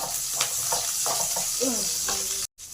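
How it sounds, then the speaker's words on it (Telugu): Onion and cumin seeds sizzle steadily in a pan for a tomato chutney, with a few stirring scrapes breaking through the constant frying hiss. "ఆనియన్ కొంచెం వేగనిద్దాం."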